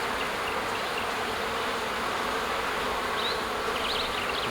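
Honey bees drone in a steady, dense hum around an open hive during a spring honey super inspection. The buzzing is close and continuous, with no talk over it.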